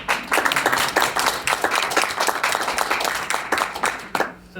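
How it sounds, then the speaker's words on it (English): An audience gives a round of hand clapping, many hands in a brisk, continuous patter close by that fades out near the end. "could you guys just do that round of applause again for me"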